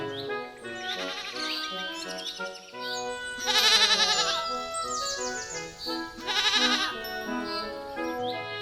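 A goat in an animated cartoon bleats repeatedly in loud, wavering cries, with several long quavering calls standing out over a bright musical background.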